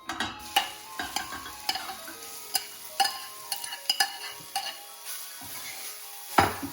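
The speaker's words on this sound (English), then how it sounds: "So the carrot has to be sauteed in this ghee mixture" Grated carrots sauteing in ghee with a soft continuous sizzle, while a spoon stirs and taps against the pan in frequent sharp clicks and scrapes, close and fairly quiet.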